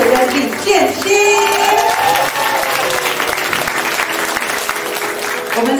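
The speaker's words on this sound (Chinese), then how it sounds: "我们再用热烈掌声" A crowd applauds at a Democratic Progressive Party campaign rally in Hualien, producing loud sustained clapping from many hands, with a voice over the loudspeaker and some cheering mixed in.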